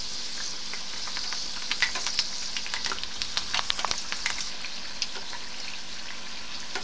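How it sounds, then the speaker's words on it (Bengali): Nimki dough fries in hot oil over medium-high heat, a steady hissing sizzle sprinkled with sharp crackles and pops, close and continuous with no voices. "এভাবে মিডিয়াম থেকে একটু হাই হিটে ওটাকে ভাজবো"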